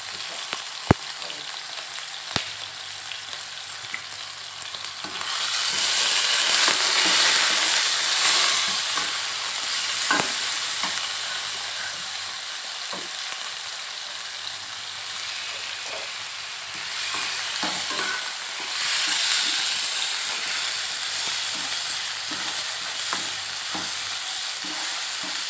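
Beef yakiniku stir-fried in a pan, a continuous sizzle and hiss that swells louder in stretches as the meat is stirred, with occasional scraping clicks of a utensil, close and without talk.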